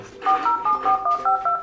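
A non-working old display telephone being dialed in a home, giving a steady series of short, evenly spaced dual-tone beeps that play loud and clear with no talk.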